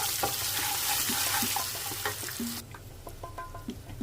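Mustard-type tempering seeds crackle and sizzle in hot oil with salt, turmeric and asafoetida, a steady loud fry with brief stirring clicks and scrapes, the hiss dropping sharply partway through.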